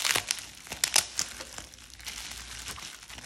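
Soft, irregular crinkling of bubble wrap being handled up close, with a few louder crackles early on, then quieter rustling.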